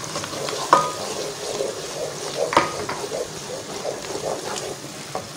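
Tomato and whole garam masala roast in a pan with a soft, continuous sizzle, punctuated by scattered scraping stirs and light clinks at moderate distance, fairly quiet throughout.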